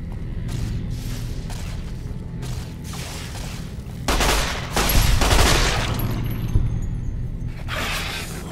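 Volleys of gunfire in the video game Fallout New Vegas, sharp loud shots crackling in rapid bursts with a heavier barrage midway, over a low game rumble.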